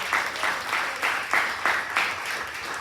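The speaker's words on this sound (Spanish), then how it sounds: "Si le va a dar ese aplauso, déselo al Rey" Congregation in a church applauding, close and fairly loud, with a rhythmic pulse of hands clapping roughly three times per second throughout.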